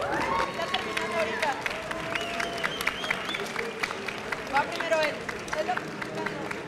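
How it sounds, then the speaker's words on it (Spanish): Applause from the audience at a science debate with trans women scientists, crowd clapping loudly and steadily through the whole stretch, mixed with cheers and some voices. "un fuerte aplauso para ustedes."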